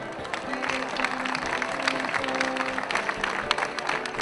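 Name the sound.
audience applause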